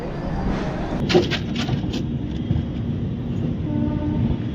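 A long-distance passenger train rumbles along steadily at close range, a low continuous roar with a brief sharper burst of clatter early on.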